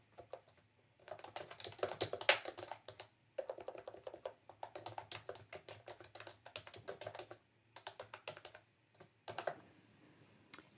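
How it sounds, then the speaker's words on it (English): Text being typed on a computer keyboard for an Illustrator graphic: steady, rapid runs of close, crisp key clicks with brief pauses between bursts, alone without speech. "type in what is your favorite coffee"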